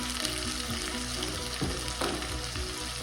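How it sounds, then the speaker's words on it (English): Tomatoes sizzle and fry in a hot pan for a steady, close hiss, with a few brief stirring scrapes and no talking. "Hear that good sizzling?"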